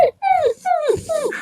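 A human voice imitates a puppy with four close, loud whimpering yelps, each a short whiny rise-and-fall cry in quick succession.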